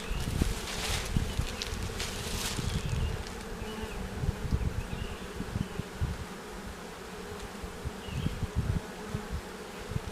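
Honey bees buzzing in a dense, continuous swarm drone during a hive cutout at a church, close and steady throughout with occasional rustles and knocks from handling.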